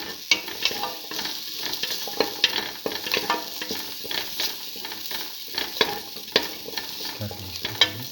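Steady scraping and stirring of a tomato, potato and split pigeon pea stew mixture in a hot pan, with continuous sizzling and frequent clicks of the spoon against the pan, close and fairly loud.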